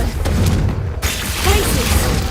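A Confringo blasting spell from Hogwarts Legacy goes off as a loud booming explosion, with a second dense burst following about a second later amid a constant wash of game sound.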